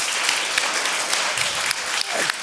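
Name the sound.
audience applause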